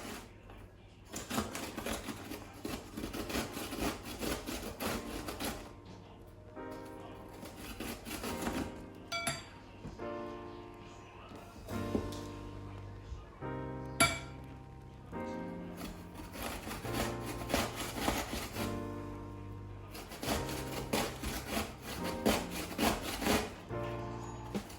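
Cucumber is rubbed against a hand grater for tzatziki, giving a steady, rhythmic scraping in quick back-and-forth strokes. The sound is close and fairly quiet, with short pauses between bursts and no talking.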